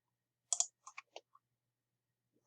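A few sharp, quiet clicks come in a quick irregular cluster, then a brief pause and a couple more faint clicks, in a near-silent room.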